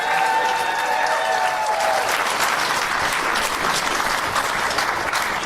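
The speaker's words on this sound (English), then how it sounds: "let's give them individual rounds of applause" An audience in a comedy podcast taping breaks into loud, sustained applause that fills the room and keeps up a steady clatter of clapping to the end, with a few brief tones early on.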